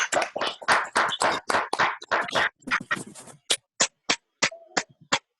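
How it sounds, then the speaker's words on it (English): Clapping at a Toastmasters club meeting, a run of sharp hand claps that grows sparser toward the end, ending in a few separate claps, fairly close and with no voices over it. "Make we clap for Tien Salif."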